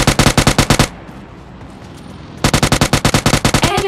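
Automatic gunfire in the mobile shooter PUBG Mobile Lite: two loud, rapid bursts of repeated shots, separated by a quieter lull of about a second and a half.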